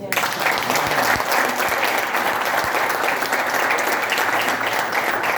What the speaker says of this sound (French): qu'un hommage particulier leur soit rendu ce jour en applaudissant très fort